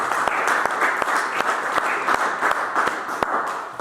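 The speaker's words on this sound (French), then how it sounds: "Acclame Jésus, acclame Jésus." A church congregation applauds continuously throughout, a dense wash of clapping with some sharp individual claps standing out.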